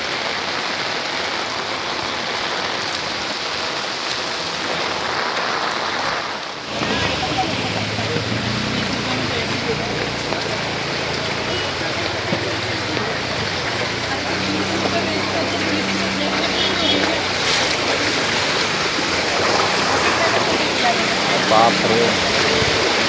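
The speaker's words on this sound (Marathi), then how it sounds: "पूर्ण नदीसारखं वाहतं रोडला पाणी." Floodwater rushes along a road like a river after heavy rain, a steady broadband roar of flowing water close by, with low rumbles later and no talk.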